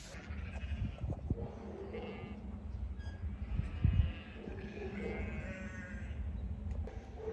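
Sheep on a farm bleating several times at a distance among faint farmyard noise, with some bumps and handling sounds nearby.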